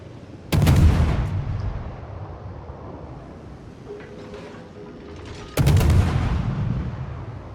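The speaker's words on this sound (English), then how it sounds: "The guns are great. They're 120s that reload every 5 seconds, which is really nice." 120 mm guns of the destroyer Haida firing in a naval video game: two loud, booming salvos about five seconds apart, each with a long rumbling tail over steady background noise.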